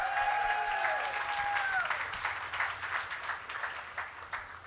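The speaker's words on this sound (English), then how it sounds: "so let's give them a round of applause." An audience at a hospital employee town hall applauds, a dense, steady wash of clapping that fades over a few seconds while a high tone slides down at the start.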